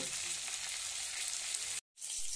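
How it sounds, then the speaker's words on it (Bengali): Tangra fish frying in hot, spattering oil gives a loud, steady crackling sizzle that cuts out abruptly for a moment before resuming. "এই মাছটা প্রচুর তেল ছিটকায়, তো একে সাবধানে ভাজছি সেই জন্য"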